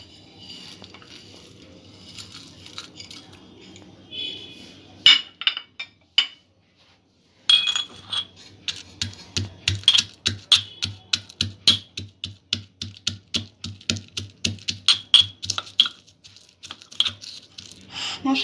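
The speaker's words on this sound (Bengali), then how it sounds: "মশলাটা এইভাবে গুঁড়ো করে নিয়েছি।" Whole spices for chicken kalia being ground to powder: a rapid, irregular run of sharp clicking and knocking strikes up close, with a brief pause partway through before the rattling picks up again and continues steadily to the end.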